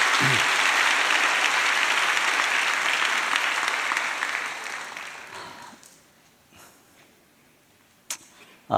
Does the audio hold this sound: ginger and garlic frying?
no